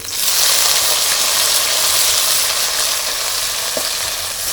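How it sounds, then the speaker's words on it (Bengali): Boiled peas frying in hot mustard oil in a wok, a loud, continuous close sizzle with faint stirring throughout. "একটু নাড়াচাড়া করে ভেজে নেব"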